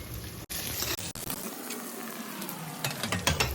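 Thinly sliced onion hits hot ginger-garlic paste in a pan for a pumpkin sabzi, bursting into a loud close sizzle with quick stirring clatters and sharp breaks, then a sustained crackling fry.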